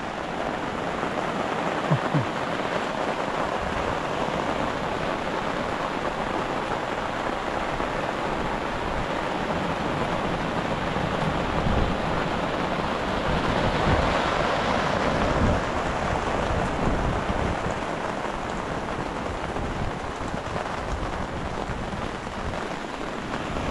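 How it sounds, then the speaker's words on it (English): Steady rain pours down on a beach in a dense, even hiss, loud and continuous, with a faint low rumble underneath. "Oh well, beaten by the rain."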